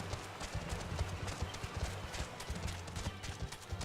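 Rhythmic hoof-like footsteps of a chocobo mount trotting in Final Fantasy XIV, a steady clip-clop pattern over low game ambience, with no talking.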